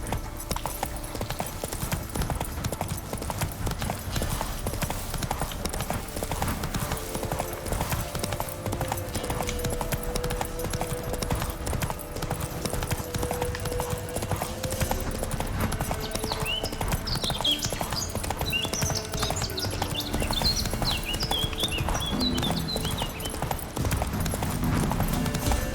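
Hooves clip-clop in a rapid, steady rhythm as a horse gallops in The Witcher 3, with game ambience and music underneath.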